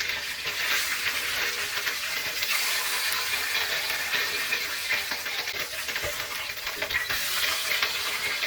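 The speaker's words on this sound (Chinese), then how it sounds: "我们来煎鱼2片大大的鱼肉，" Two large yellow croaker fish fillets pan-frying in oil, a close, steady crackling sizzle with occasional stirring or shifting, continuous and without speech.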